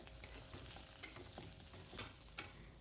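Onion frying in hot oil and being stirred, a steady close sizzle with brief scraping accents from the spoon at intervals, no one speaking.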